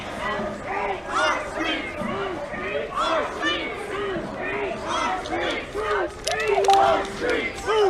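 A protest crowd clashes at the Capitol, a dense wall of shouting and yelling voices rising and falling continuously, with scattered louder cries over the din.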